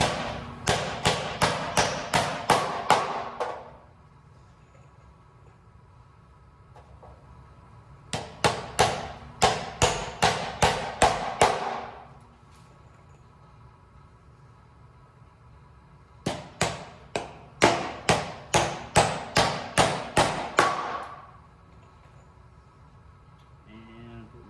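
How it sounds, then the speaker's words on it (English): Nails are hammered into a notched wooden board in three bursts of rapid, sharp, ringing blows, each run of about a dozen strikes followed by a quiet pause. "I'm going to put a nail within either side of this."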